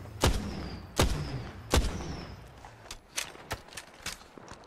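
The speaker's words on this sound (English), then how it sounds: "Warning shots." Several sharp warning gunshots from Apex Legends ring out one after another, the first three loud and clearly spaced, then fainter, quicker shots trailing off.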